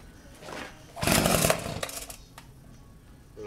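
A McCulloch MS1838AV chainsaw is being started on choke: a few rough, sputtering pull-start bursts, the strongest in the middle, then fading into lighter rattles.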